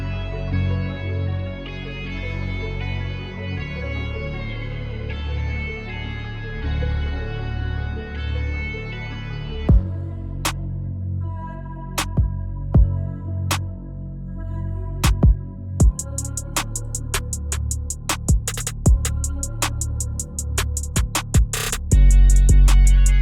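A produced FL Studio beat moves from a sustained, melodic bridge of layered synth chords into the next verse, where sharp percussive hits and rapid hi-hat rolls come in over a heavy bass, ending on a deep boom.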